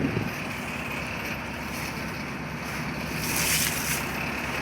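A motorboat hums across the open water of the Bhigwan dam reservoir, its engine drone mixed with wind buffeting and splashing.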